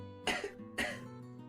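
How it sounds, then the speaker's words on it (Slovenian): Two quiet coughs spaced about half a second apart, a radio drama sound effect in a children's radio program, heard alone over a faint steady hum. "ko je od nekod zaslišala tihi kašelj"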